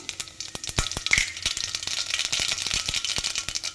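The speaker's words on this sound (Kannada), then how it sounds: "ಕಾದಿರೋ ಅಂಥ ಆಯಿಲ್ಗೆ ನಾನು ಸಾಸಿವೆ ಮತ್ತು ಜೀರಿಗೆನ ಹಾಕ್ತಾಯಿದ್ದೀನಿ" Mustard seeds and cumin hit hot oil, producing a crackling sizzle with many sharp pops and spatters scattered irregularly over a continuous frying hiss, close and fairly loud.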